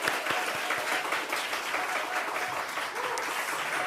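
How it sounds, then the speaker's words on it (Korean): A church congregation applauds teachers and children during a Sunday service, with dense, sustained clapping from a full room lasting the whole stretch at steady loudness. "우리 선생님들과 우리 아이들 위해서 한번 박수로 격려할까요?"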